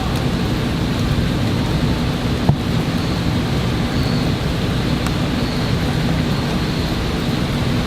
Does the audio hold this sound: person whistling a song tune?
no